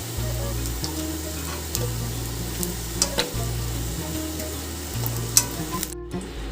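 Raw green banana pakoras frying in hot oil give a steady, close crackling sizzle, with a low cooktop hum and a few light clinks.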